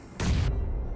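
A grenade goes off in the mobile battle royale game BGMI, a single sudden sharp blast that cuts off after a moment and leaves a lingering rumble, with no talking.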